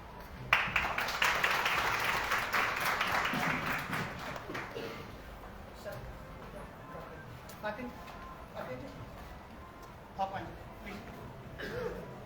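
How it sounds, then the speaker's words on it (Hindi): An audience at a university book release ceremony in Mandi bursts into loud applause that gradually thins into scattered claps, with voices murmuring throughout. "तालियां रुकनी नहीं चाहिए।"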